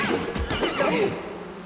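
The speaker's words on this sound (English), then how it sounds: "Did Seela just attack her own horse?" A horse whinnies loudly and shrilly, its call rising and wavering before trailing off, in the game Pathfinder: Wrath of the Righteous.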